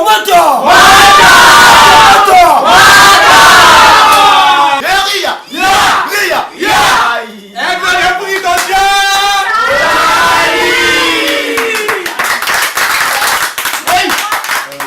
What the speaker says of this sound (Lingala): Je vais demander à la salle, avant de présenter Joël, si on peut carrément l'applaudir.